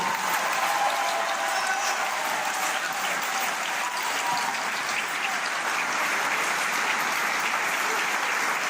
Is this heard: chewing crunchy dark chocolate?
no